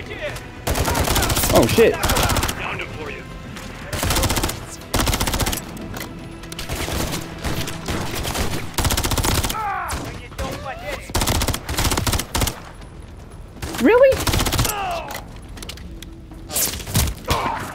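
Rapid automatic gunfire from Call of Duty: Modern Warfare 3, loud and close, in dense bursts and volleys with scattered thuds. Someone talks over the shooting.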